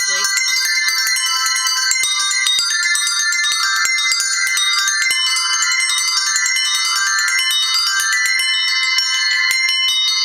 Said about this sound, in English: Now what I like about these bells is that you can spin them around, and then you can hold your mallet very loosely.